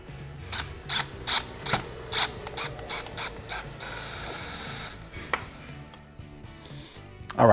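A Garmin fish finder transducer mount being tightened on a boat: a series of close, crisp ratcheting clicks in a steady rhythm, then quieter mechanical fiddling, with no voices.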